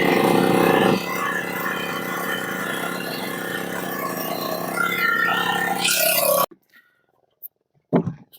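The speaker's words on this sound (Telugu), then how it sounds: "ఇప్పుడు ఇంజిన్ సాయంతో మేము వల్ల లాగబోతున్నాం." A fishing boat's engine drones loud and steady for about six seconds before hauling the net, then cuts out abruptly, leaving near silence broken by a couple of faint knocks.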